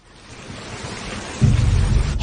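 Rain and rumbling thunder accompany a knife fight in Squid Game, a swelling wash of rainfall that builds, then jumps louder with a deep low roll of thunder.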